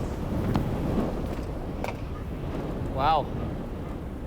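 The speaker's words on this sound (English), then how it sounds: "the wind isn't quite finished with the crew." Strong wind blows across an open outdoor area around an aircraft crew after a flight, a loud, steady broadband rush close to the microphone, with someone speaking briefly over it.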